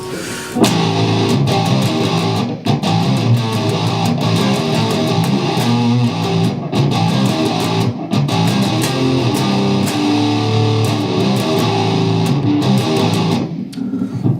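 Loud, driven electric guitar chugs through a power-chord riff, with sharp palm-muted rhythmic hits, continuous and up close, no voices.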